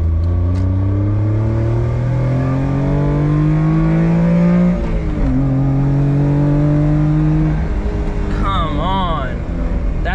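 A Honda Beat convertible kei car's small engine revs and pulls through the gears while driving, loud and close, with rising pitch sweeps and a brief shift dip.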